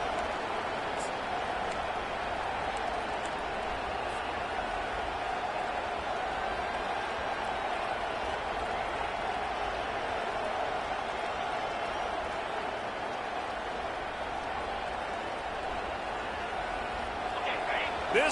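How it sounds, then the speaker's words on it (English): Steady roar of a stadium crowd in a college football video game, a dense continuous wash of distant cheering and noise that holds level throughout with no break. "This crowd bringing the energy and noise early."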